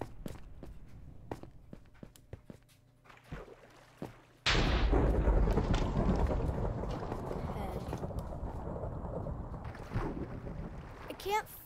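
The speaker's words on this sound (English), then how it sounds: "That is very loud thunder." Loud thunder in a survival video game arrives as a sudden heavy crack that rolls into a long, fading rumble, following scattered quiet footsteps and clicks.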